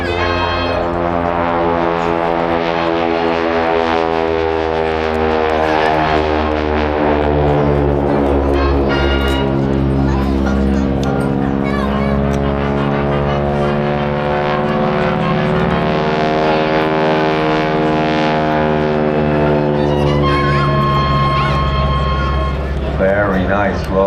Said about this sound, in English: So that's why you always see him pitching the aircraft down a little bit before he starts pulling it up